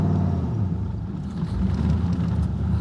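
1000 hp turbocharged Trans Am car pulling away, a deep, steady engine rumble with low droning tones heard from inside the car, fairly loud and continuous.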